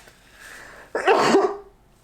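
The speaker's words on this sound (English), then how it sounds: "I want to sneeze." One sharp sneeze bursts out after a brief quiet breath, close and loud, then quickly fades.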